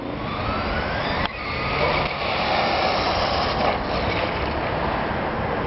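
A Traxxas Rustler VXL RC car drives close by, its electric motor a loud, sustained whine that rises and dips over rough ground with broadband road noise.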